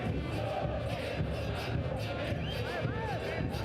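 Just over 2,000 fans fill a football stadium at a Concacaf League match between Real CD España and CS Herediano, producing a loud, steady roar with whistles and individual shouts rising above the mass.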